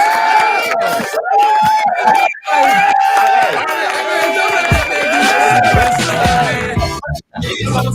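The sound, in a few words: audience cheering and clapping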